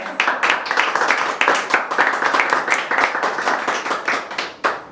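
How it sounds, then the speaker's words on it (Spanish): Studio audience clapping in a rhythmic pattern, fairly close and moderately loud, with regular hand claps continuing steadily before stopping near the end. "Un aplauso más para Gaby."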